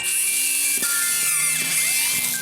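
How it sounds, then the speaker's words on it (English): Whining power drill bores through PVC pipe resting on a piece of wood, pitch dipping several times as the bit bites, loud and close. "Take your drill, line it up on with your piece of wood beneath it, and go ahead and drill it out."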